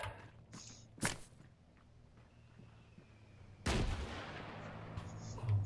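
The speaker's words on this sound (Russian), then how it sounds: "Сначала свист полета слышит, потом выстрел." Artillery fire in the ArmA 3 video game: two sharp booming blasts, one early and a louder, longer one later, with quieter rustling and movement sounds between them.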